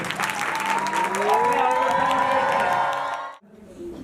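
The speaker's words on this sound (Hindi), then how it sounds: "अपने लिए जोरदार ताली दीजिए" A congregation at a church service breaks into loud, sustained clapping and cheering, with voices rising over the applause before it cuts off abruptly near the end.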